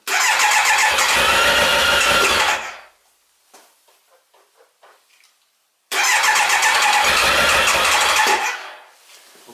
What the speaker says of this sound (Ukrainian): Знову щеплення вижимаю, заводжу. Заводиться.